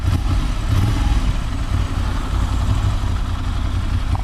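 A 2019 Ducati Monster motorcycle engine running steadily nearby with a low, throbbing rumble and slight throttle variation, loud and continuous with no talk over it.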